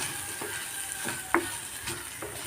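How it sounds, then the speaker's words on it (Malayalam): Chilli and turmeric powder being stirred in a hot pan for a mackerel curry, a soft sizzle with a few scraping strokes of the spoon at a steady pace. "ഇനി നന്നായിട്ടൊന്ന് ഇടക്കി കൊടുക്കാം"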